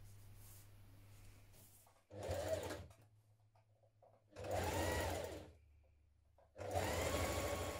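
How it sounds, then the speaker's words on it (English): A sewing machine top stitches the placket of a shirt dress in three separate bursts of rapid, close whirring, each a couple of seconds long, separated by quiet pauses with a faint low hum. "So I'm just choosing to top stitch mine just here on the placket"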